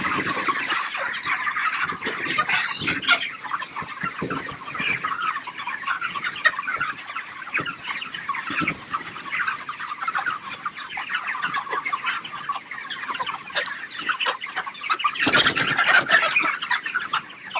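Many chickens cluck and call together inside a poultry farm shed, a dense and continuous chorus of overlapping bird voices that swells slightly louder near the end, with no talking.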